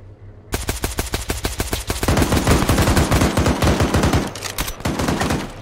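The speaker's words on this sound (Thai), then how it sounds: "มันยิงใส่เรามันยิงใส่เรา" Automatic gunfire in the Arma 3 video game during a zombie mode match: a loud, sustained machine-gun burst of rapid evenly spaced shots, growing denser midway, then a short pause and renewed firing.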